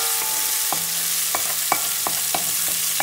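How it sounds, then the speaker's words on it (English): Chopped peppers sizzle steadily in a hot pan for Puerto Rican arroz guisado, with a spoon scraping and stirring in several distinct knocks over the constant frying hiss, close and without talk. "I'm going to add my peppers, which are chopped."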